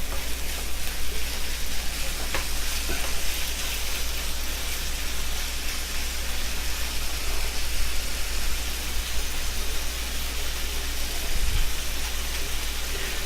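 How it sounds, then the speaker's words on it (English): Sirloin beef sizzles steadily in a hot pan, a constant crackling hiss close by with no talking. "You hear that nice sizzle?"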